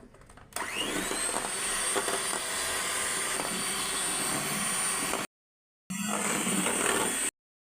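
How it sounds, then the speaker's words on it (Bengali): An electric blender whirs loudly and steadily, mixing egg yolks for a cake batter, stopping briefly before restarting for a final short burst. "এখন আমি কুসুম দিয়ে দিলাম। এখন ব্লেন্ড করে দিব।"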